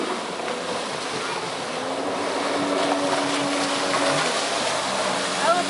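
A jet ski runs on open water with its engine droning steadily, mixed with wind rush and splashing, while voices talk over the loud, continuous noise.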